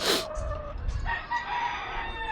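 A rooster crows loudly nearby in a backyard flock, followed by softer clucking from other chickens and hens, with no talking.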